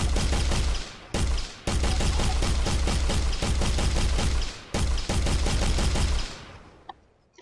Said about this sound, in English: And the shooting should now be working right